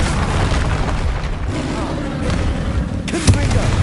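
A Bombarda blasting spell goes off in Hogwarts Legacy on PS5 during a troll fight, a booming burst with a sharp pop near the end over a dense rumbling battle din, with a voice speaking through it.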